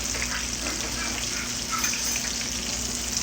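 Spinach and potatoes fry in a pan with a steady, close crackling sizzle that continues without a break.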